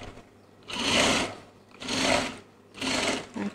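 Sewing machine stitching decorative double seams on a child's dress, three close bursts of rapid whirring stitches separated by short pauses, clear and alone.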